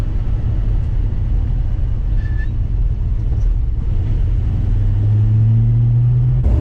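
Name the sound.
1949 Studebaker Champion car driving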